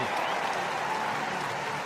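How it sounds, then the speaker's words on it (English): A stadium crowd applauds the winner of a 5000 m championship race, a dense, continuous wash of clapping and cheering with a commentator's voice over it. "Taking the plaudits of the crowd."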